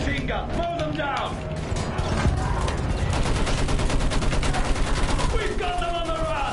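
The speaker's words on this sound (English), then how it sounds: "Use that machine gun. Mow them down." Machine gun fire in the World War I shooter Battlefield 1, a long rapid rattling burst of rounds over battlefield noise, with a voice speaking over it.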